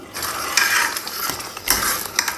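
A pot of dal with coconut and cashews being stirred, a steady wet scraping and swishing with a few louder knocks of the spoon against the pot, close and with no talk.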